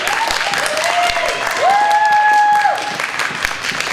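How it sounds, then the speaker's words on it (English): A school assembly crowd at an elementary school claps in steady, busy applause that runs the whole way through, while a high whistle-like tone rises and holds in the middle. "So let's give him a great big round of applause."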